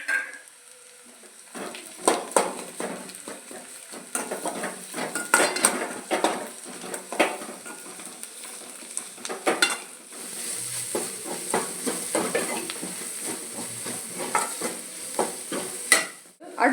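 Fried onion mixed with coarsely ground fried garlic is stirred in a pan, a spoon scraping and clattering against the metal in irregular bursts over a soft sizzle, close up and without talk.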